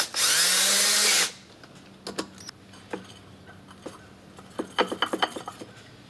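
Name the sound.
power tool tightening bolts into ATV secondary clutch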